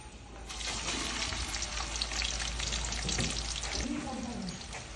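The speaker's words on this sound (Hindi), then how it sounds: "अब हम इसके अंदर डालेंगे 1 बड़े साइज का प्याज, जो हमने अच्छी तरह बारीक बारीक चॉप कर लिया था।" A large, finely chopped onion fries in ghee for pulao, giving a steady, close, hissing sizzle that runs through the whole stretch.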